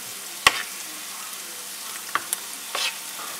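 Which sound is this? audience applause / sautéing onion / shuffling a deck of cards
sautéing onion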